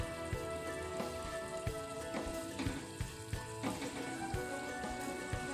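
Ghee bubbling and boiling in a pan while making flax seed pinni gives a steady, fine crackling sizzle close up, with a few louder pops and clinks throughout and no voices.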